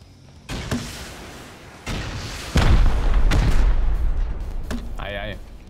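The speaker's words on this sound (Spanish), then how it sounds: "¿le tiro ya los cohetes?" Rockets fired during a base raid in the survival game Rust land as a series of heavy booms. Each sharp blast is followed by a long, rumbling, roaring tail, and a short electronic tone sounds near the end.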